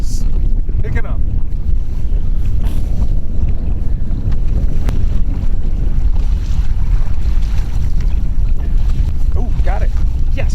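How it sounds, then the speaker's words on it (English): Strong wind buffets the microphone aboard a boat on Presque Isle Bay, a constant loud roar of rushing air and water noise, with a few faint voices underneath. "The wind is picking up."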